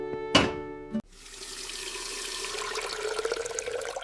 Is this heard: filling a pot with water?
yes